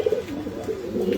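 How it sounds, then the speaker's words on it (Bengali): Pigeons coo at a farm in Mirpur, Dhaka, a close, soft, continuous run of low rolling coos that rise and fall without pause, with no talking. "আজকে টুকটাক কবুতর দেখাবো।"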